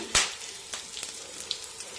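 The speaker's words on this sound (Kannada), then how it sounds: "ಸ್ವಲ್ಪ ಉದ್ದಿನ ಬೇಳೆನು, ಸಾಸಿವೆ ಹಾಕ್ತಾ ಇದ್ದೀನಿ, ಕರ್ಬೇವಿನ ಸೊಪ್ಪು ಹಾಕ್ತಾ ಇದ್ದೀನಿ" Mustard seeds, urad dal and curry leaves hit hot coconut oil in a pan, giving a sharp initial burst of sizzle followed by scattered small pops and crackles, close and fairly quiet.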